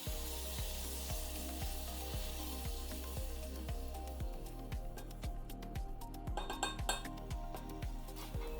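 Dip ingredients sizzle steadily in a pan: a continuous close frying hiss with a repeating low tick and scattered light metal and glass clinks toward the end.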